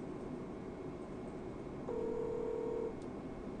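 A telephone handset produces a single steady tone lasting about a second while an international number is dialed, over a quiet room hum, with no talk.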